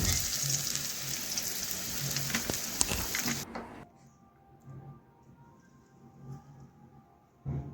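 Potatoes frying in oil in a pan, a dense close sizzle with crackles that abruptly drops away after a few seconds, leaving a faint, quiet crackle and light handling noises.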